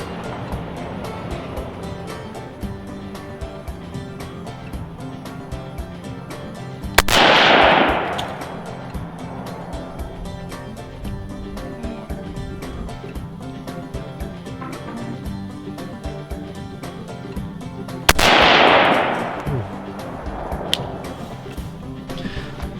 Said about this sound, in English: So shot that AR at 100 yards.